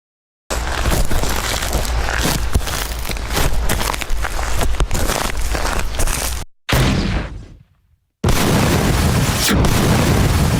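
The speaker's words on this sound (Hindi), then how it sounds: "जोरदार धमाका और सब खत्म।" A loud, sustained roaring blast that cuts off abruptly, followed after a brief silence by another wall of heavy rumbling noise.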